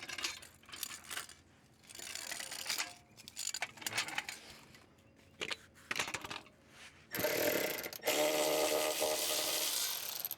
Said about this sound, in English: We just got all the trans mount bolts out.